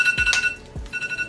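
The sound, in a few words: phone alarm going off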